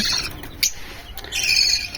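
Budgerigar chicks give raspy, high-pitched squawks in short bursts, close and fairly loud, with a brief tap in between.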